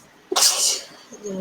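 A single sharp sneeze, close and loud, with a short voice following at the tail end.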